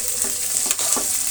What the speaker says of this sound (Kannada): ಈರುಳ್ಳಿ ಹಸಿಮೆಣಸಿನ್ಕಾಯಿ ಎರಡೂ ಕೂಡ ಚೆನ್ನಾಗಿ ಫ್ರೈ ಆಗಲಿ.